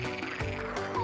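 A toad croaks continuously and loudly in a children's story, a dense low guttural croaking sustained across the whole short moment with no talk over it.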